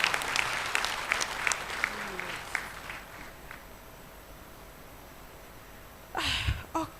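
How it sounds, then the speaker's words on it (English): Audience applauds at a South Sudan conference event, a fading patter of claps that tapers into quiet before a short burst of voices and noise near the end. "So you should clap for him."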